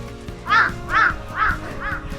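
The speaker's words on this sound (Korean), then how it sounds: "까마귀가 뭐라 하네요." A crow caws four times in slow, even succession on rocky Geumjeongsan mountain near Busan and Yangsan. Each call is loud, harsh and close, with short gaps between.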